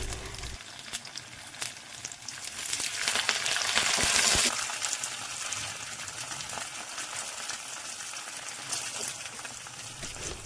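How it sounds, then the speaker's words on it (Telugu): Mustard-seed tempering and spices crackle and sizzle in hot oil for a homemade ginger pickle, with asafoetida added. A steady bright hiss runs throughout, swelling louder for a couple of seconds near the middle before settling back. "నూనె పెట్టుకొని అందులో పోపులన్నీ కూడా బాగా వేయించుకోవాలి"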